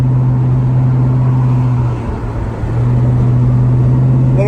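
A 1977 Chevy C10 Cheyenne pickup truck driving with the engine running steadily, producing a loud, constant low drone and rumble inside the cab, with a brief dip before the engine note returns.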